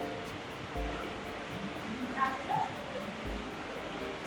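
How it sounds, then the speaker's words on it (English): Indoor waterfalls at a hotel in Greece give off a steady, even rush of falling water, filling the space at moderate level throughout, with a faint brief tonal chirp near the middle. "Check out the waterfalls."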